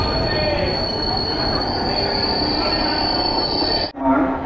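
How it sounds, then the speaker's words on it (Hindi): Kosi Express pulling into Bokaro Steel City station, its wheels squealing with a loud, sustained high metallic screech over rumbling rail noise that cuts off abruptly near the end. "तो जी ट्रेन अपनी पहुंच चुकी है बोकारो स्टील सिटी, वो भी अपने टाइम से 15 मिनट पहले।"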